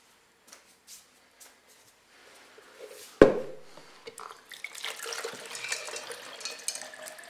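Filtered water is poured from a jug into a bowl for whole-wheat sourdough bread rolls, starting with a sharp knock, then a continuous close splashing pour that lasts several seconds.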